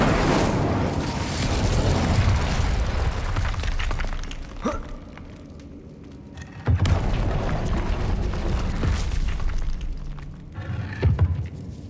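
An Incendio fire spell explodes during Hogwarts Legacy play, producing loud booming, crackling bursts and thuds over a continuous rumbling game soundscape.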